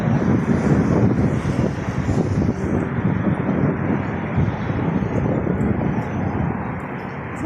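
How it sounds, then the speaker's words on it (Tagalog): Strong wind outdoors in Deira, Dubai, roars as steady, loud microphone buffeting and rushing noise for the whole stretch, easing slightly toward the end. "sobrang hangin dito sa labas"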